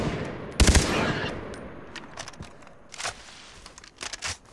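A short burst of automatic gunfire cracks close by in the shooter video game Far Cry 3, followed by quieter scattered pops and rustling.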